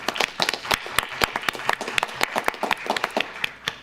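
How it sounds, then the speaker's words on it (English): Sustained applause from a crowd at a school board meeting, dense overlapping hand claps with sharp irregular peaks, fairly close and steady throughout. "Can we please give her a round of applause?"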